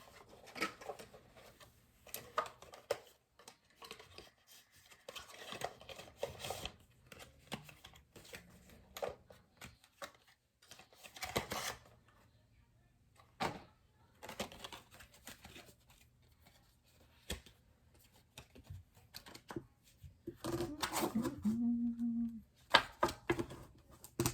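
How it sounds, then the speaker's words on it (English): A deck of tarot cards is shuffled in quick, soft riffling bursts, repeated several times with pauses between, close and fairly quiet. "I hate this deck, so we're just gonna do a regular shuffle."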